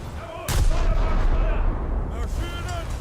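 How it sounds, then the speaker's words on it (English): Naval gunfire slams into a warship in a Scharnhorst naval battle game: a heavy blast, then a sustained rumble of fire, with German in-game voice callouts over it. "Now I'm starting to take quite a bit of fire."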